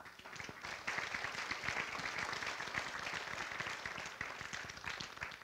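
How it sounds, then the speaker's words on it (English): An awards-ceremony crowd applauds steadily, dense clapping that holds at a strong even level throughout without letting up. "I think we all deserve a round of applause."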